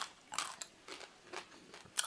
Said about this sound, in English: You can actually crunch them